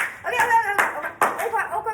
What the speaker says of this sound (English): Claps for everybody. Everybody clap.